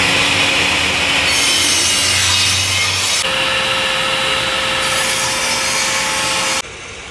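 A carbide-tipped reciprocating saw blade cuts through red oak veneer plywood, a loud, continuous rasping saw roar with strong stroke texture that shifts partway through and stops abruptly near the end, heard at close range at a trade show demonstration.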